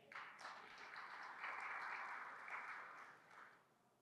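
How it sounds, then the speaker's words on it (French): Audience applause at a conference panel on AI in Africa, a quiet, distant burst of clapping that swells, holds, then tapers off toward the end. "Sous vos applaudissements."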